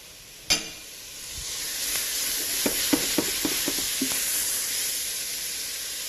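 Soft steady sizzle of vegetables and crushed garlic frying in a pan for a lamb navarin, opening with a sharp clank, then a series of light scraping stirs over the continuous hiss.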